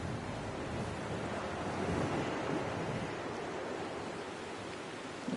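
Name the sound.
ocean waves on the shore in the video game Dear Esther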